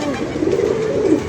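Pigeons coo close by in a low, rolling throaty murmur that continues steadily through the short moment.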